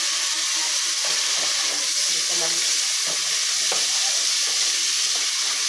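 Meat sizzles and fries loudly in an open pan, with occasional scraping and clinks of stirring over the steady hiss.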